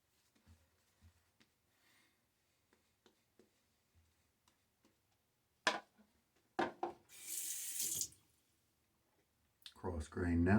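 Tap water running into a sink while shaving with a Gillette Aristocrat 1934 safety razor, a loud hissing gush lasting about a second, after soft clicks and taps, then a second burst of running water.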